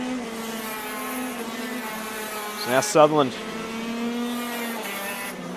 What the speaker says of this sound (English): He can probably hear that TM engine screaming behind him.